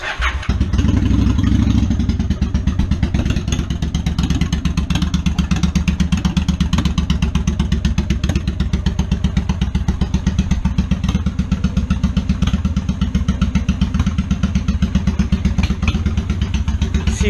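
A Honda Shadow 750 motorcycle, nearly finished in a garage, cranks and starts, then settles into a loud, steady, close idle with a rapid even pulse and slight clatter throughout.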